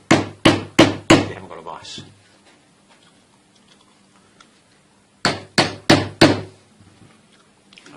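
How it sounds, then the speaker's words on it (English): Sharp hammer blows on a plastic bottle top, four quick strikes, then a pause, then four more, with a voice talking briefly between. "I can put it here like this and hit it with a hammer"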